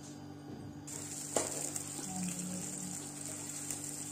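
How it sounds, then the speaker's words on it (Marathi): Chopped onion fries in a few spoonfuls of hot oil for masala rice, producing a soft, continuous sizzle and hiss at low volume with a faint clink partway through. "तर कांदा टाकून भाजून घेऊ।"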